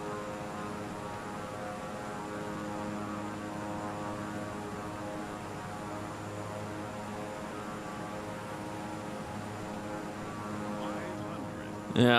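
An airplane engine in a flight simulator game drones steadily with a constant tonal hum during takeoff and climb-out, ending with a brief louder bump.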